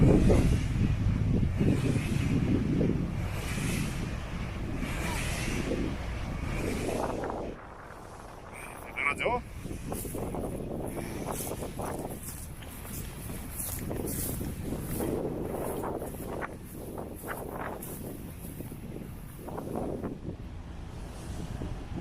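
Steady whooshing and whirring from a wind turbine turning in strong wind in spring on Jeju Island, a continuous broad roar with gusty wind noise buffeting the microphone throughout.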